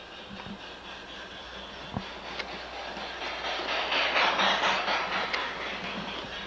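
An LGB garden-scale model train rolls along the track with a soft rhythmic clicking and a rising mechanical hum as it draws nearer, steady and moderately loud, with a few sharp clacks from the rails.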